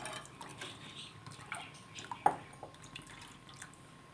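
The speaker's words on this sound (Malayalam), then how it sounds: "നന്നായിട്ടൊന്ന് തിളയ്ക്കട്ടെ" A pot of lentils and spices at a boil gives off faint, scattered bubbling pops and soft plops over a quiet background, with one slightly sharper pop partway through.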